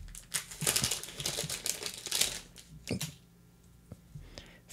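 Crinkly plastic packaging for Warlord Games Judge Dredd miniature game cards being unwrapped close up, a steady run of sharp crackles and crumples that thins out toward the end.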